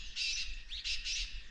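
Small birds chirp near a farmhouse cottage among fruit-laden trees on a quiet morning, three short bursts of high, fairly close twittering over a faint low background hum.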